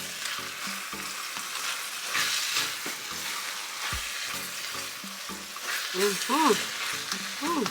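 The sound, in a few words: taco meat with seasoning powder being stirred and fried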